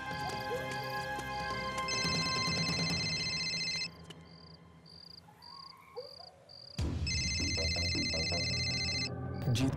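A phone ringtone chimes repeatedly in bursts of a bright electronic melody, with short gaps between rings and a steady high beeping in the background.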